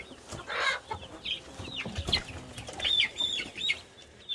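Chicks mill about in a pen, giving off overlapping chirps and soft clucks with some rustling and scratching at close range, and no one speaks.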